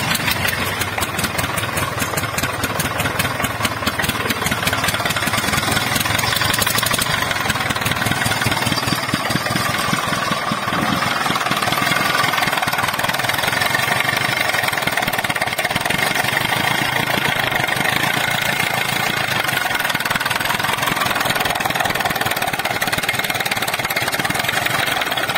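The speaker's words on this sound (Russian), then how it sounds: "Мотор завелся." An old tractor diesel engine idling steadily and loudly, a rough continuous rumble with a rapid knocking chug throughout.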